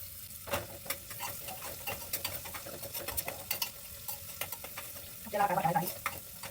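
Onion frying Chinese style in a pan gives a moderate sizzle broken by scraping and clinking stirring strokes, with a louder burst of sizzling near the end.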